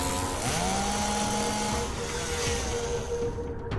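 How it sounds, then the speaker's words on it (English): A rotating chainsaw in the video game Rebellions, its motor whining and shifting pitch up and down over a steady buzzing roar, fairly faint. "The rotating chainsaw would swing down and reduce his body to mincemeat."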